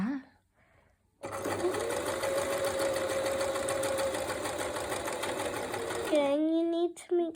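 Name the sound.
Hobbycraft sewing machine stitching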